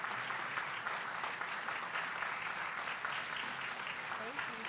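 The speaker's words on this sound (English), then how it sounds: "Please give both Randi and Mary a big round of applause." An audience applauds at a fairness award event honoring Randi Weingarten, a dense, continuous wash of clapping at moderate volume with faint voices underneath.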